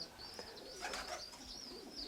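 Pigeons bred in a close-bloodline line coo softly and continuously, a low rolling murmur from nearby birds with a faint high chirp running over it, no voices.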